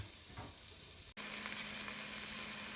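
Onions, garlic and jalapeno sauteing in a soup pot, a quiet sizzle that jumps to a loud steady frying hiss as more ingredients hit the hot pan.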